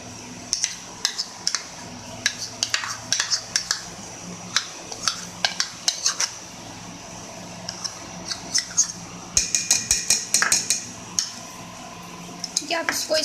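A spoon stirring mayonnaise into vegetables in a bowl, with irregular clinks and scrapes against the bowl coming in bursts over steady soft background noise.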